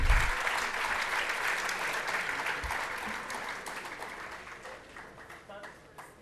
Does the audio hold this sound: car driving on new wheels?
no